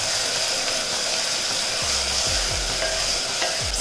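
Turmeric and ginger garlic paste are stirred in a frying pan, a loud, even sizzle under several low scraping sweeps of the spoon across the pan.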